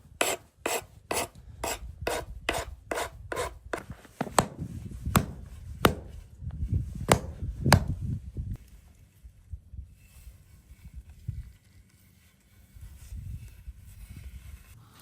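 A file rasps a wooden axe handle in quick, evenly spaced close strokes that turn slower and heavier midway, then fade into softer, scattered scraping.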